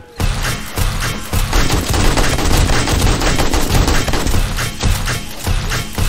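A turret in 7 Days to Die fires rapid, sustained automatic bursts, loud and dense across the whole stretch with only brief gaps between volleys and no talking.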